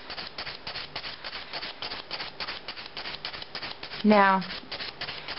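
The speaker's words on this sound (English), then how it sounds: "I'm going to be using NSI's Endurance 100-100 file." Rapid rhythmic rubbing strokes of an NSI Endurance 100/100 file across acrylic nails, close and fairly soft, steady back-and-forth scratching with a brief spoken word partway through.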